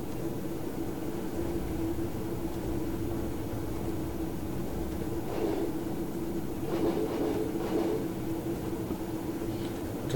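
Train in a railway simulator game rolling steadily over track and switches, a continuous low rumble with a steady hum and a few faint clacking bursts partway through, no voices.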